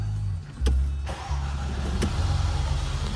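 A 2013 Mercedes-Benz A180 engine cranks and catches, then settles into a steady low idle rumble close by.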